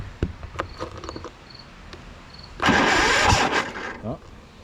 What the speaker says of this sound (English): It ran smoother with the old carburetor, but it starts with this carburetor.